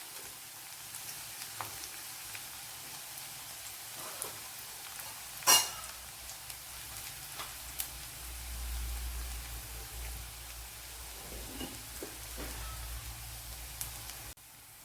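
Urad dal and shallots frying in hot oil for gooseberry curry, a faint, steady sizzle with soft crackles and one louder pop partway through.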